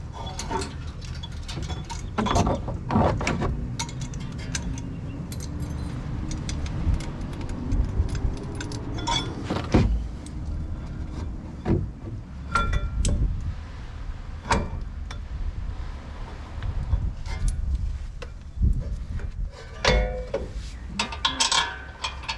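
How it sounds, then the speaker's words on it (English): A brake caliper being refitted on a RAM Rebel pickup, metallic clinks and clatters of parts and tools scattered irregularly over a low background hum, close and intermittent. "now we can put the brake caliper back on"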